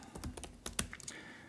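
Keys clacking on a computer keyboard while an email is typed, a quick uneven run of close, crisp taps with a couple of sharper strokes, no voices over it.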